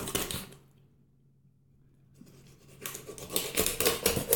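Kitchen shears snipping through a small chicken bone during spatchcocking, crisp close cuts at the start, then a quiet pause and a rapid run of crunching, clicking snips.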